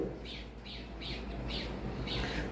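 Pet cockatiels in an aviary setup give a series of about five sharp, fairly close chirping calls at a steady rhythm over a low background hum.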